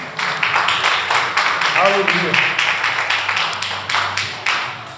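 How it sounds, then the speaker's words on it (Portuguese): A church congregation applauds during a service, with rhythmic clapping throughout and a voice calling out over it. "Você pode dar um aplauso ao Senhor Jesus?"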